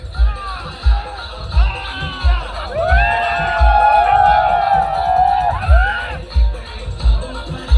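Village boys celebrate a cricket final win in Kelshi, Konkan, with a loud crowd of cheering, shouts and whoops that swells into sustained yelling midway, over rhythmic thumping and babble.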